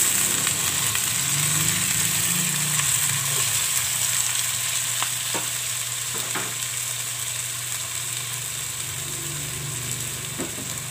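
Chicken pieces frying in a pan for chicken adobo with potatoes, a steady broadband sizzle throughout with a few soft clicks of stirring, close and fairly loud, no talking.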